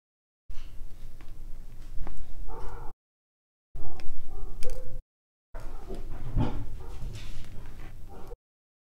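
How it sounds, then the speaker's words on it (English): Several dogs bark and yip in three bursts separated by short gaps, fairly close and moderately loud, stirred up by neighbours doing something next door. "The dogs were barking because we have some people just doing stuff next door."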